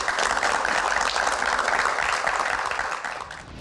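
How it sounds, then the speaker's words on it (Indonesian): An audience at a Q&A show applauds in a full, even wash of clapping that fades slightly near the end. "Baik, tepuk tangan."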